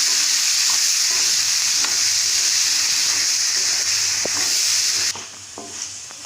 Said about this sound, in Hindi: मटर के नरम होने तक हमने इसको भून लिया है।